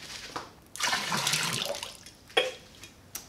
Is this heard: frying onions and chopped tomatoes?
no